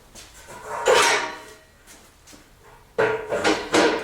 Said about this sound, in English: Lock the wheel so it doesn't move.